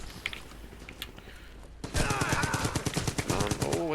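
Rapid automatic gunfire from the mobile shooter Brothers in Arms 3 bursts in loud and dense after about two seconds of quieter game ambience, continuing in quick rattling volleys to the end.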